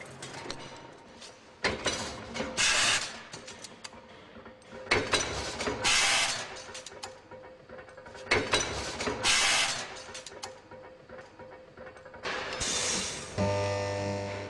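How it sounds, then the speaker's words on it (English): Machines and presses cutting, stamping, bending and shaping steel parts for Brooks saddle frames in a factory, with repeated loud mechanical bursts of whirring and clattering separated by quieter gaps, ending in a steady hum. "A dozen other machines and presses cut, stamp, bend and shape all the other parts of the saddle frames"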